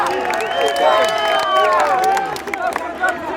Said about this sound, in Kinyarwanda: Amashyi menshi cyane rero